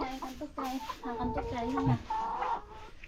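Chickens in a coop cluck close by in short, overlapping bursts, several birds calling in an uneven rhythm that rises and falls over a few seconds.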